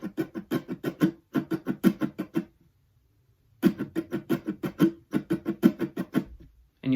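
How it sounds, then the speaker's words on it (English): Muted strumming on a guitar in strumming pattern 7, from a song: close, percussive choked strokes in quick rhythmic bursts, a silent gap near the middle, then the pattern repeats. "And so the last line here I have is just some muted strumming"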